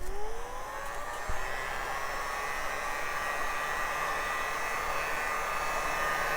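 A heat gun blows steadily to warm the grill trim on a Jeep Renegade. It makes a loud, continuous airy roar with a faint rising whine, close by and alone, with no talking.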